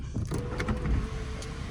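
Sunroof on a BMW M140i hatchback opening with one touch, a short close electric motor whir inside the cabin that starts abruptly and hums steadily, with no voices.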